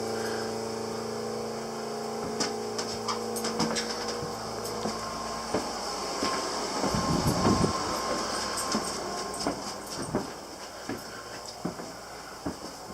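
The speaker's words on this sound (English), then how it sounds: "You can hear the pump running." A washing machine pump runs in an off-grid house on wash day, giving a steady mechanical hum with rattling and clicking that swells in the middle, close and continuous with no talk.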